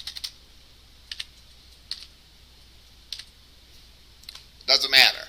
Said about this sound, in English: it doesn't matter what letters we type in